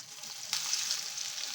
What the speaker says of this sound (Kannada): ಈಗ ಎಣ್ಣೆ ಕಾದಿದೆ. ಈಗ ಇದು ನಾವೇನು ಜೋಳ ಮಿಕ್ಸ್ ಮಾಡ್ಕೊಂಡಿದ್ವಲ್ಲ ಕಾರ್ನ್